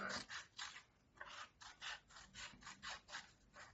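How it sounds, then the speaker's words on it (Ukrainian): Scissors snip the corners off a paper square for a pink piglet appliqué craft, giving about ten quick, evenly spaced cutting strokes that sound close and fairly quiet. "Ось так зрізає ножицями куточки і утворюється круг."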